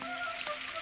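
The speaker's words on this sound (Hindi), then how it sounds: "ये तो पहले से भी ज्यादा बारिश हो रही है" Steady cartoon rain pours in a Doraemon episode, a dense, even hiss of falling water that lasts the whole short moment without any voices.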